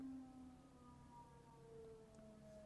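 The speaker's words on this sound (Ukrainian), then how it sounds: "Сирена, да." A siren wails faintly in the distance, its tone gliding and wavering steadily throughout with no voices over it.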